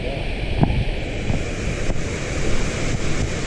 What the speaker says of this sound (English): It's quite fast water. It's moving fast.